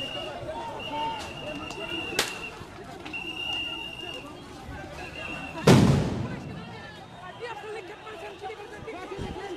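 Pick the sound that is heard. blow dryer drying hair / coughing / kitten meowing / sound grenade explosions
sound grenade explosions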